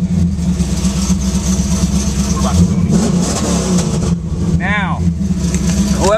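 A Pontiac Firebird engine fires up and revs, a steady mid-pitched idle rising in brief throttle blips, heard close with some voice in the background.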